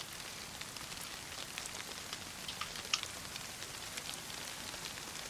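Steady rain pattering in the DayZ video game world, a soft continuous hiss of drops on surfaces with no voices, filling the whole stretch at low, even volume.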